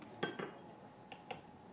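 A metal spoon clinks against a coffee cup, a few sharp taps in quick succession followed by two more light clinks a moment later, close and fairly quiet, with no talking.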